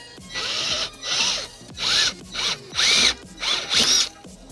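A power drill whirs in six short bursts with brief gaps between while working on a C10 truck's rear suspension, the motor pitch rising and falling as it bites in, loud and close.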